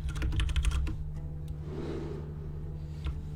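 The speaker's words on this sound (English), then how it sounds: "My keyboard's gonna be loud here." Computer keyboard typing in a rapid, loud burst of clicks up close, easing into a few scattered keystrokes over a steady low electrical hum.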